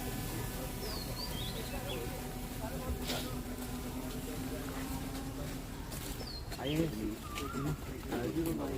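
Pigeons or doves coo amid other bird calls and chirps in the Bird Park at Chandigarh, a steady outdoor chorus of varied song with faint background activity throughout.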